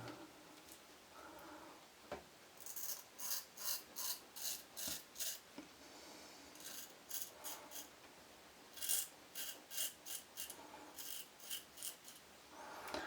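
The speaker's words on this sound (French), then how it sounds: "Niveau prêt à raser, ça rase bien, ouais. Ça rase plus que bien" A Thiers Issard straight razor scrapes over stubble during a traditional wet shave, making close, crisp rasping strokes in quick rhythmic bursts with brief pauses, quiet and alone.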